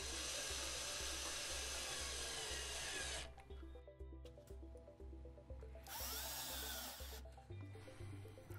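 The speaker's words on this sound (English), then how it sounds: "mounted it in place with wood screws" Power drill driving wood screws to mount an electrical box: a loud, steady whirring run for about three seconds, then shorter stop-start bursts of drilling with pauses, close and alone.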